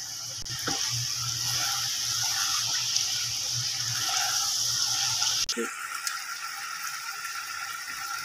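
Cumin seeds sizzle in hot oil with a steady, crackling hiss, close and continuous, with a few small clinks and a brief pause partway through before the frying hiss resumes.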